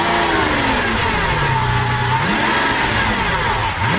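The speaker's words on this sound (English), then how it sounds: "there's also the center console position start button that conjures up Top Gun sequences whenever the mid-mounted V12 is stoked." The mid-mounted V12 of a 2012 Lamborghini Aventador LP 700-4 revs hard, loud and close, with the pitch rising and falling across a continuous engine roar.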